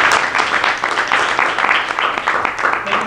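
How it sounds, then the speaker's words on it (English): A crowd at a startup weekend demo day applauds the judges with dense, steady clapping from many hands, heard fairly close and lasting the whole three seconds. "Give them a round of applause."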